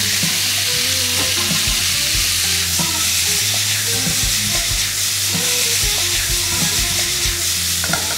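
Pork for gyros sizzles loudly, frying crisp in a hot pan with steady crackling, stirred now and then with scraping sounds, close up and with no talking.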